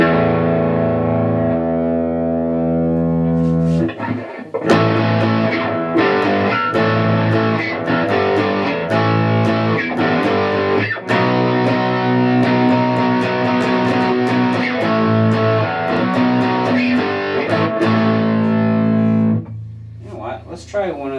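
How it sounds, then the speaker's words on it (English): A Fender Squier Bullet Telecaster electric guitar played through heavy distortion, loud and sustained with strummed chords and brief pauses and string noise between phrases. "See what we get for some distortion of this."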